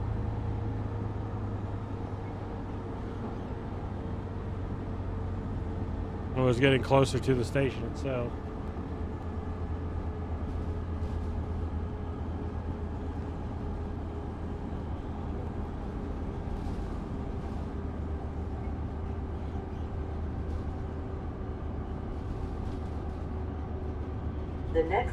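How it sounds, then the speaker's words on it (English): A steady low rumble of an NJ Transit train coasting with power off in Train Sim World 6 hums on continuously, with speech over it and a brief burst of clanking around the middle. "we're gonna immediately just pull off the power to let the train coast"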